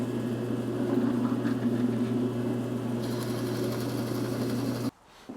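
A power drill bores a half-inch hole in wood near the end of a board: a steady, loud motor drone with a grinding edge runs for about five seconds, then cuts off abruptly.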